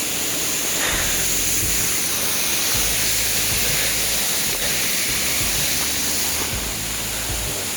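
Close to the Ghonsari waterfall, falling water makes an unbroken hissing roar that swells slightly now and then, loud and steady.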